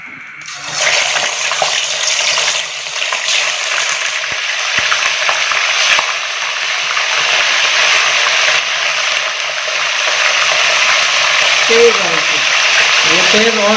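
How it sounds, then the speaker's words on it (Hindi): Fish fries in hot oil over high heat for a masala fish curry, a loud, dense sizzle that bursts in as the fish goes into the pan and keeps crackling steadily throughout. "तेज आंच के ऊपर ये मछली पकेगी। पहले इसको फ्राई करेंगे"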